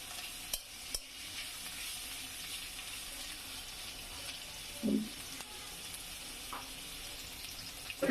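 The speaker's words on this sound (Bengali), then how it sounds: "পেঁয়াজ দিলাম পেঁয়াজ কাঁচামরিচ দিয়ে দিলাম" Onion and green chillies fry in oil in a pan for a home-style shrimp dish with Malabar spinach. A soft, even sizzle runs throughout, with a few faint clicks and a brief clatter of stirring.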